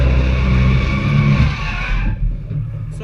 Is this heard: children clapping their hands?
no